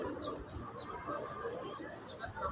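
Soft pigeon coos repeat amid a busy outdoor murmur at a mosque in Madina, with faint chirps and distant voices in the background.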